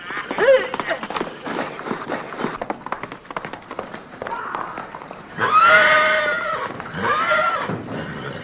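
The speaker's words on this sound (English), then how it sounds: "I got the best cow horses this side of KC." A horse neighing loudly twice near the end after a run of quick hoof thuds as it leaves the gate, with voices mixed in.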